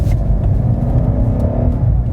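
A 2019 BMW M5 G30 accelerating hard in rear-wheel drive mode, its engine a loud, steady close-up roar that holds its pitch without a break for about two seconds, with no voices.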